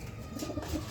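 A pigeon gives a single short, soft coo, close and quiet, with no voices.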